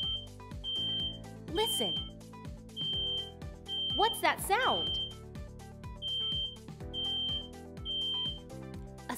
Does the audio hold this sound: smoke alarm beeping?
yes